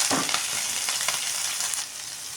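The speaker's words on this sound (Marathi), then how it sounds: "आपल्याला मिरची छान फ्राय करून घ्यायची आहे" Cut green chillies fry in oil with turmeric, giving a bright, close, continuous hiss and sizzle with a few soft stirring scrapes, no voice.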